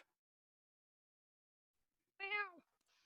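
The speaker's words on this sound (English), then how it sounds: "And you hear a meow from on top of the roof." A single clear cat meow from a rooftop, fairly faint and somewhat distant, after a long stretch of near silence.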